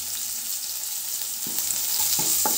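Chopped onion, cumin, dried red chillies and curry leaves frying in oil, a steady close sizzle with a few sharp crackles and stirring scrapes toward the end, no voices.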